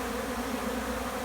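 A dense swarm of honeybees buzzes steadily while being fed, a loud, close, continuous droning hum with no pauses and no voices over it.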